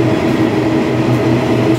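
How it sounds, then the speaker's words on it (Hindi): A Delhi metro train runs at a station platform with a loud, continuous rumble and rolling rail noise close by, with no one talking. "छूट गई हमारी मेट्रो, अब नेक्स्ट मेट्रो का वेट करना पड़ेगा हमें।"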